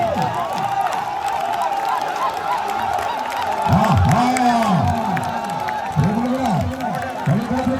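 A crowd claps and cheers at a tug of war contest in Edappuzha, Kannur, Kerala, a busy wash of applause and shouts with a commentator's voice over a loudspeaker.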